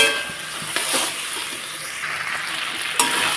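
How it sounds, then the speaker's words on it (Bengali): Spice paste for a vegetarian jackfruit and chana dal dish sizzles in a pan, the steady frying hiss broken by close scraping strokes of a spoon as it is stirred, with no talking. "এর জন্য কষাচ্ছি আর যদি বেশি একটা ভেজে ফেলতাম মশলাটাকে তাহলে কষানো যেত না"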